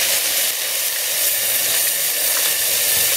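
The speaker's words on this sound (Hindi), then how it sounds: "तेल गरम हो गया है। अब हम इसमें डालेंगे तेज पत्ता, दालचीनी, काली मिर्च, जीरा, हींग, प्याज का पेस्ट," Bay leaf, cinnamon, black pepper, cumin, asafoetida and onion paste sizzle in hot oil for chole, a loud, close, steady hiss that holds without a break and has no talking.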